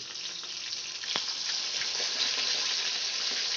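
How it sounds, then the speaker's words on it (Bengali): Catla fish pieces fry in hot oil in a pan, giving a steady, close sizzling hiss that runs unbroken throughout, with one brief sharper crackle partway through. "এই পিঠটাও আমি এরকম লাল করে, খুব একটা কড়া করে আমি ভাজবো না।"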